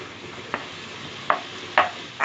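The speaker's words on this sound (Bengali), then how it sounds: "এখন সবগুলো উপকরণ আমি ভালো করে একটু নেড়ে চেড়ে নিচ্ছি।" A spatula stirs spices and ginger paste in a pan for a chana dal and egg dish; four separate scraping strokes cut through a soft, steady sizzle, getting louder toward the end, with no speech.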